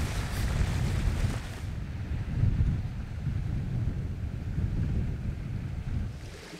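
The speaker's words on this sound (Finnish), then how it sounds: "Ja sit tää tuuli ei heitä minun kumo." Strong gusting wind on an autumn hike in Urho Kekkonen National Park, Finnish Lapland, roaring and buffeting against the microphone in a steady low rumble that eases slightly partway through, with no voices.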